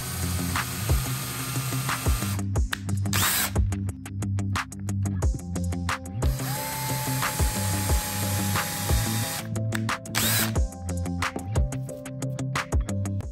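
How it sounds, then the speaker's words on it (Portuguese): A power drill whirs and grinds in repeated bursts, drilling handle holes in wardrobe doors, with mechanical ratcheting clicks and a steady motor drone throughout. "faça os furos com a furadeira"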